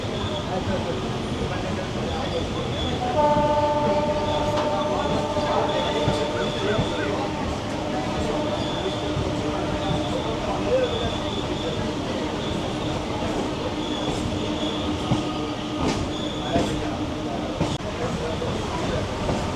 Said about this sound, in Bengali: আমাদের ট্রেন চলেছে গঙ্গার পাশ দিয়ে